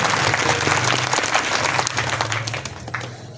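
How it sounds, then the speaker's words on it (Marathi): Audience clapping loudly at a kirtan gathering during a week-long devotional singing festival, a dense burst of sustained applause that gradually thins and fades toward the end. "सर्वांनी एकदा जोरात टाळी वाजवून या ठिकाणी बाबांचे या ठिकाणी जाहीर आभार या ठिकाणी व्यक्त करतो"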